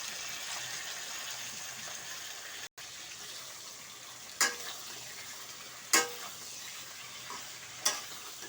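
Whole spices and garam masala frying in a pan, a soft, steady sizzle at moderate distance with three distinct stirring scrapes spaced a couple of seconds apart and a brief dropout.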